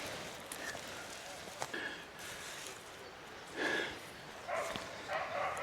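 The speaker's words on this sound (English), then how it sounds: "People walking their dogs." Dogs out on a walk with their owners bark a few times, short bursts standing out over quiet outdoor background noise.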